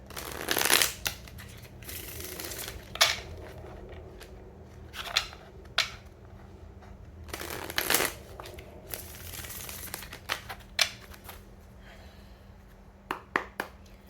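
Tarot cards being shuffled by hand, close and clear, in bursts of riffling and slapping with short pauses between them, with no talk over it.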